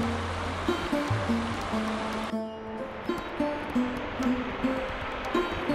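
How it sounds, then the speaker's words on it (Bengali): A small clear river stream in Shergaon, Arunachal Pradesh rushes in a steady broadband wash, close and continuous, with a brief abrupt change in texture partway through and no talk. "নদীর জলটা একবার দেখুন আর আওয়াজটা শুনুন"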